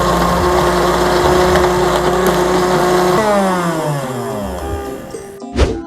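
Electric blender whirring as it blends a herbal jamu mixture for a lipoma remedy, a loud steady motor drone that shifts pitch partway through and then cuts off abruptly near the end.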